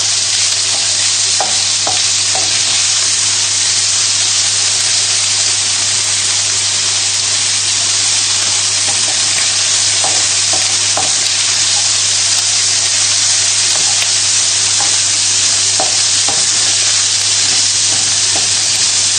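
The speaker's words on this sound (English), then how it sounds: "Just keep moving it around in the pan just to make sure that it's not going to stick at all." Bacon and pasta sauce stirred in a frying pan, giving a loud continuous sizzle and hiss throughout, with occasional soft scraping taps of the utensil against the pan and no talking.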